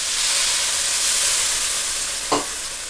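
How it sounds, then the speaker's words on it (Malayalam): Hot water is poured into a pan of Kerala village-style beef curry, which hisses with a steady, bright sizzle, broken near the end by a short splashing surge. "ഇച്ചിരി ചൂടുവെള്ളം കൂടെ ഒഴിച്ചു കൊടുത്തേക്കാം"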